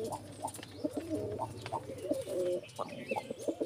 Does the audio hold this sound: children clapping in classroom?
no